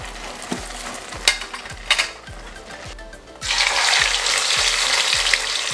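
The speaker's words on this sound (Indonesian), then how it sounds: "Langsung kita goreng hingga garing ya." Crispy batter for nasi uduk kremesan sizzles and crackles in hot oil, the frying growing louder and fuller partway through, with a few clinks of utensils.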